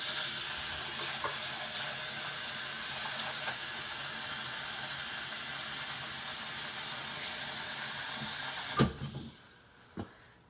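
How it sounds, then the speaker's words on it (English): Cold water runs steadily from a tap for several seconds, then shuts off, followed by a few faint clinks and knocks. "Get cold water."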